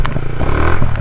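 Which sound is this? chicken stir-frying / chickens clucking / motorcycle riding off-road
motorcycle riding off-road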